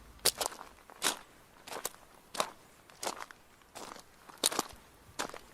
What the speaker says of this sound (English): could hear footsteps getting closer and closer